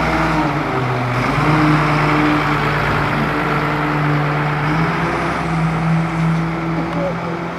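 A 1998 White-Volvo cab on a Leach rear-loader garbage truck runs with a steady, loud diesel engine drone and low tonal hum, continuous throughout, heard close by outdoors.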